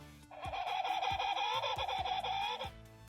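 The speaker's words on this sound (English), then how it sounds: "Penguin." A penguin call from a Paw Patrol interactive sound book: one electronic squawking cry that holds for about two and a half seconds, fairly loud and close, over a steady rhythm of soft low thumps.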